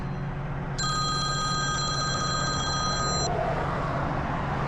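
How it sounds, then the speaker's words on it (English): A work phone rings with a bright electronic trill lasting a few seconds, clear over a steady low background hum, then cuts off. "And my work phone's ringing."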